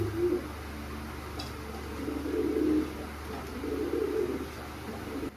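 Pigeons in a loft cooing in low, soft repeated phrases, a few rounds of muffled coos over steady background hum, with no talking.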